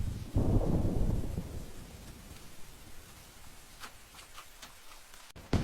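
Rain patters steadily, opening with a low rumble of thunder that fades into a soft, continuous hiss of falling water.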